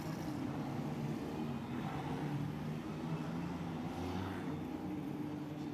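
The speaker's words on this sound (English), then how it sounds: "So there's the queue of cars" A queue of Tatuus Renault single-seaters on Pirelli tyres at the Macau Grand Prix circuit produces a steady, low engine rumble and broad road noise, fairly distant with no voices.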